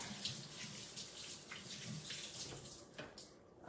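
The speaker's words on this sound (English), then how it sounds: "Let me rinse my hands." Hands being rinsed under a running kitchen tap after handling raw ground meat, a steady close splash of water lasting a few seconds with no speech.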